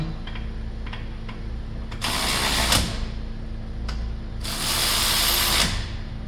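A ratchet runs down 18 mm bolts on a 2019 Cadillac Escalade brake caliper, with faint clicks followed by two bursts of rapid close-up pawl ratcheting, each lasting about a second.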